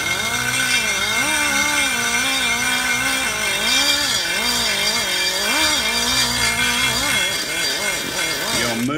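Hand tool scraping and flattening the throttle body bore of an LT1/LT4 58mm dual throttle body intake, a loud continuous grinding rasp whose pitch wavers up and down as the tool moves around the bore.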